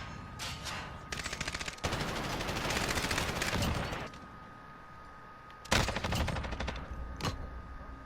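A slow-firing gun in a Call of Duty video game, heard fairly quietly as a string of shots and short bursts over steady game background noise, with a sharper cluster near the end.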